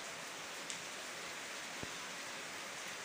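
Steady monsoon rain falling outside a village home in Bengal, an even wash of soft hiss with no gaps and a faint drip or tap now and then, no voices.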